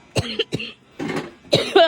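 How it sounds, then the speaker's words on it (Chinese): A child coughs in a rural home, three or four harsh bursts spaced about half a second apart, close and loud, with the last cough trailing into a voiced, throaty tone. "咳嗽。"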